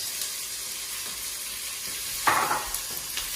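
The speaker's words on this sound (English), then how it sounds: "Knob of butter in. Add the onion in, all in. Okay, mix." Chopped onion hitting melted butter in a hot pan, bursting into a sudden loud sizzle partway through after a steady low hiss, then settling into a continuous frying crackle.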